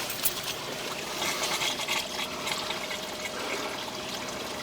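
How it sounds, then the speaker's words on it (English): Water running down into a drain pipe toward a city sewer line, a continuous rushing trickle with splashy fluctuations, fairly close and steady throughout with no talk. "We got water running."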